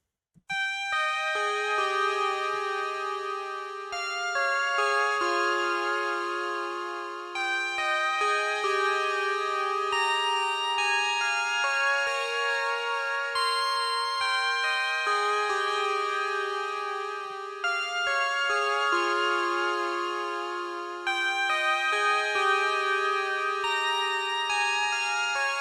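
Analog synth melody for an alternative R&B track: bright, bell-like sustained notes stepping through a simple chord-following line, with short gaps between phrases, clean and alone without voices.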